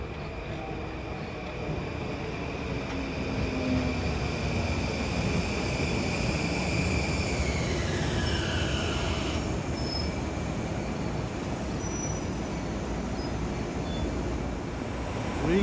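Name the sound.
LIRR M9 commuter train passing westbound at New Hyde Park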